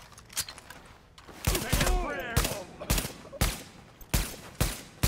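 Shotgun blasts in a video game, a series of sharp, loud bangs in irregular succession, with talking in between.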